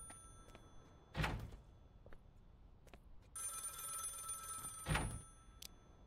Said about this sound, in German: Telefon. So, altes Telefon.